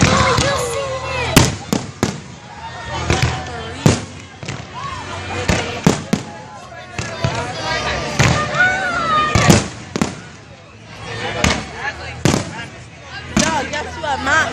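Fireworks burst repeatedly at a public show in Elmer Thomas Park, with sharp booms and crackles about every second or two, loud and close, while people talk excitedly between and over the explosions.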